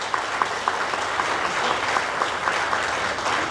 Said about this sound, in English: One more round of applause for our new Hall of Famers.